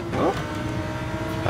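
Race car in a racing video game, lap four of five, with a steady engine drone as a rival car comes up on the outside to overtake, a brief whine rising near the start, with a voice talking over it.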